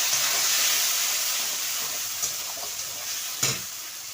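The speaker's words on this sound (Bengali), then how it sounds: "পেঁয়াজটা ভাজা হয়ে গেছে, এবার বেটে রাখা মশলাটা দিয়ে দিলাম।" Ground spice paste frying with onions in a pan for a pointed gourd and prawn curry gives a steady close sizzle and hiss with a few soft stirring clicks and pops.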